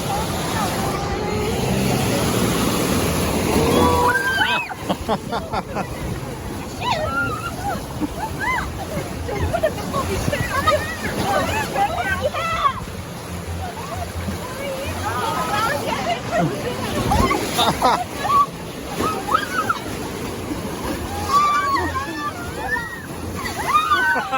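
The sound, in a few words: water ride splashing water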